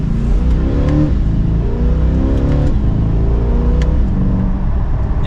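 A 2024 Chevrolet Corvette C8 2LT Z51 with performance exhaust accelerates hard, its engine note climbing through gears in steady, sustained rising sweeps, loud and close with no talking.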